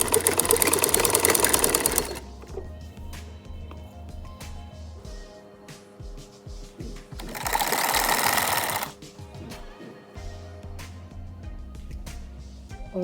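A sewing machine stitches a strip on a kurta in two loud, rapid whirring runs, a longer one at the start and a shorter one later, with quiet fabric handling and small knocks between them and no talk.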